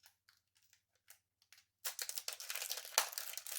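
Plastic packaging of a stencil set being opened: a few faint crinkles at first, then a sustained, close burst of crackling, tearing plastic with one sharper snap.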